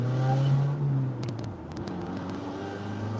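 A car engine idling and running at low revs on a city street, with a steady low hum and a few faint clicks, no talk.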